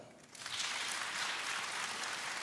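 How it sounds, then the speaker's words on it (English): Audience clapping at a "We The People" gathering in LA, a dense wash of many hands that swells in after a quiet start and holds steady, moderately distant. "If you're 65 plus, clap."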